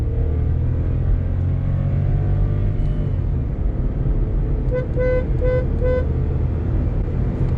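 A VW Polo launches hard from a standstill in a 0 to 100 run, its engine droning loud and steady from inside the cabin, while a short series of horn toots sounds outside near the end.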